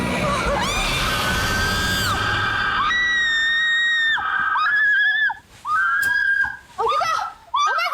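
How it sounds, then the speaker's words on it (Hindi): A girl screams in a horror drama, several long shrill cries one after another, loud and close, with breaks between the later ones. "क्यों चिल्लाई तुम?"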